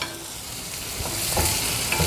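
Chopped onion and garlic sauté in garlic cheese butter in a pan with a steady close sizzle, while a spoon stirs it in a few soft scraping strokes.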